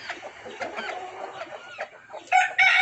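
Black and white chickens on a poultry farm, a run of close clucks and short calls that ends in two louder squawks, with no talk.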